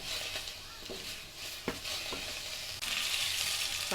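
Food fries and sizzles in oil in a pan, a steady crackling hiss with occasional stirring clatters, close and clear.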